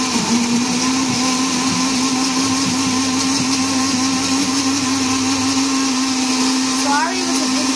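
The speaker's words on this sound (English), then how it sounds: "So now we're getting ready for the mixer." A blender mixing a smoothie whirs loudly and steadily for several seconds, its high motor whine constant, with a slight pitch shift near the end.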